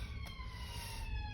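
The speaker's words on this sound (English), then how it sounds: "siren again." Siren of a passing emergency vehicle outdoors, a steady high wail with clear harmonics held for a moment over a low rumble of traffic, with no speech.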